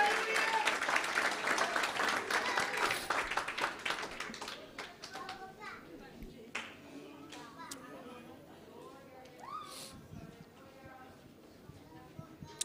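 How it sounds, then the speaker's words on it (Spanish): Church congregation at a campaign service applauding, dense clapping loud for the first few seconds then thinning into scattered claps under voices and shouts. "Dele fuerte ese aplauso."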